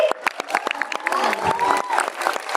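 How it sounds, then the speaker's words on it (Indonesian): An audience claps for the producer team at a school children's presentation, a short burst of dense, close applause with scattered cheering from the crowd. "Tim produser, kita berikan aplaus kepada Miss Ari"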